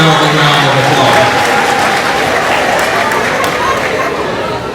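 Graduates and guests applauding at a university commencement ceremony, a broad, dense wash of clapping from a large crowd, loud and sustained, with murmured chatter underneath, gradually easing off.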